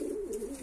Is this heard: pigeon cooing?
yes